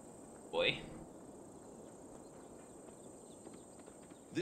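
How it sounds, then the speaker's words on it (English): A single horse's hooves clop once up close in a medieval England setting in Assassin's Creed Valhalla, a short burst of hoofbeats over a quiet ambient bed with faint insect chirps, and a second brief hoof sound at the very end. "There's a horse right there."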